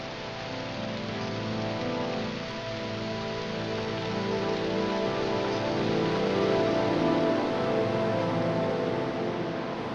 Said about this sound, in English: In the lower elevation, rain drenches the foothills, providing precious water which all life depends on.